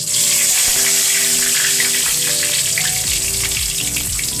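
Spices frying in oil left from frying potatoes, for chicken biryani, a loud dense continuous sizzle and crackle close up, with faint tonal hum underneath; no voices.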